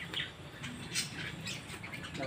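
Indian ringneck parakeets squawking at a nature park aviary, several short sharp harsh calls spread across a couple of seconds, moderately near over quiet background noise.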